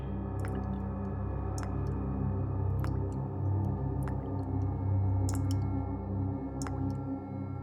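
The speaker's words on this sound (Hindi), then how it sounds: "कुछ टपकने की आवाज आ रही है ना?" Slow, irregular drips of water fall one at a time, about every second or so, each a faint sharp tick over a steady low indoor hum, in a quiet room near an old water tank.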